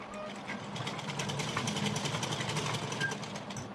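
Steady, rapid mechanical whirr of a sewing machine stitching pleats on a salwar, running continuously at moderate volume with a fine rhythmic chatter.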